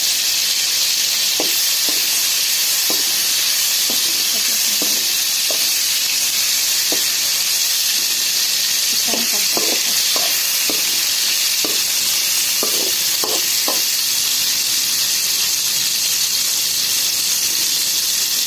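Tomatoes frying in a pan for a tamarind chutney, giving a steady loud sizzle and hiss throughout with scattered soft clicks and stirring taps, no talking.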